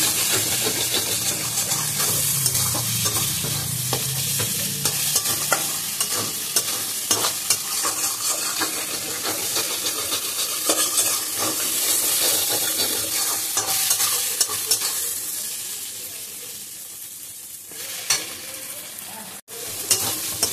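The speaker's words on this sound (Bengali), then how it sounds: "চিচিঙ্গাটা খুব ভালো করে ভাজতে হবে, একটু পোড়া পোড়া হবে" Snake gourd fries in a pan with steady oil sizzling and crackling, loud and continuous, with occasional scrapes and clinks of a spatula stirring it.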